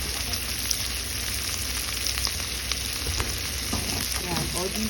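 Shrimp sizzling steadily in a hot pan, with scraping and clattering of a utensil as it is stirred, continuous close frying hiss throughout.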